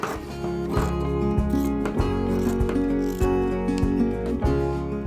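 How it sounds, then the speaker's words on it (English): Scissors cutting through folded fat-quarter cotton fabric, with several crisp snips spaced unevenly through the clip over steady background music. "We're now going to cut that out."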